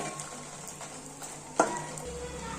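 Dried red chillies fry gently in oil on a low flame for chukka kura pachadi, a soft close sizzle with light stirring and one sharp clink of a utensil.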